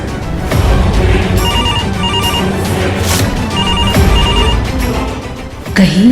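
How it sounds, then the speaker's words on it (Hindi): A phone ringtone signals an incoming call in an Indian TV drama, a loud repeating electronic melody in regular bursts over background music, ending in a bang-like hit. "कहीं ये पायल का फोन तो नहीं?"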